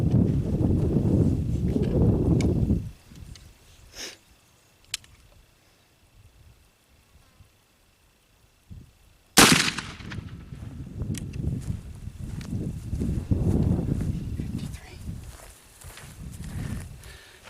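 Black powder muzzleloader fired with a doubled powder charge and an unpatched round ball, a single sharp, loud report standing out between stretches of low rumbling background noise.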